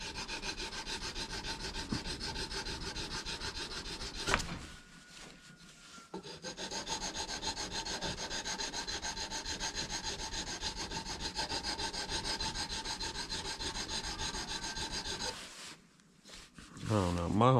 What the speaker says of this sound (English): All right, back to more sanding.